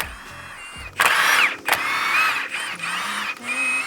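Pneumatic impact gun breaking loose clutch bolts on a Porsche 996, giving two short loud hammering bursts over a steady background whir, then ongoing tool and workshop noise.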